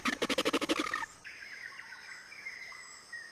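A great hornbill calls in tropical forest: a fast, loud run of about a dozen pulsed notes, then fainter, drawn-out calls trailing off in the background.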